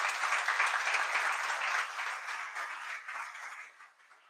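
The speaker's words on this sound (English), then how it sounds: "a huge round of applause for everyone who put in the efforts to make us feel warmly welcome" Audience applause at a first-year engineering college induction and orientation program, a dense crowd of clapping hands that starts strong and slowly fades away over a few seconds.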